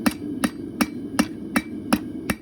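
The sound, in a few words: conical hammer striking a steel rod to make horseshoes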